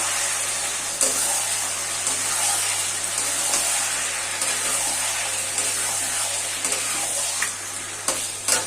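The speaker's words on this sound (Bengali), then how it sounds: "ঢেলে দেবো মাংসটা ঢেলে দেওয়ার পরে ভালো করে কষিয়ে নেব মাংসটা" Chicken poured into a pan and stir-fried for a spiced chicken kosha sizzles loudly and steadily, close up, with repeated scraping stirs and clacks of a spatula against the pan.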